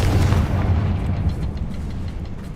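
Confringo explosive spell blast in the Hogwarts Legacy video game, a loud, rumbling, low-heavy burst that lingers and slowly fades with no voices over it.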